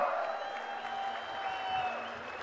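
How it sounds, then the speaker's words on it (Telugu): Audience applause at a political gathering in Andhra Pradesh, a steady wash of clapping from a crowd, moderately loud and unbroken for a couple of seconds. "ప్రత్యేక అభినందనలు గట్టిగా చప్పట్లతో తెలియజేయాల్సిందిగా కోరుతా ఉన్నాం."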